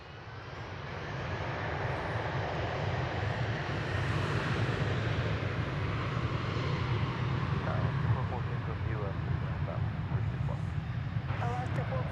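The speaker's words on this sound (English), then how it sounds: "some dual landing and takeoff action here" Airliners landing and taking off at DFW Airport, a broad, steady jet engine roar that swells in and holds loud for the whole stretch, heard from a distance outdoors with no talk over it.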